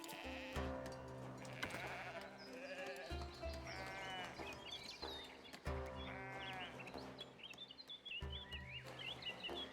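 Sheep bleat repeatedly in a sheep field in the video game Foundation, several loud wavering calls in close succession against a light farm ambience.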